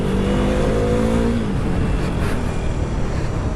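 A KTM Duke 390 BS3 motorcycle in quick throttle mode revs up with a rising engine whine that drops off into rushing wind and road noise, loud and close.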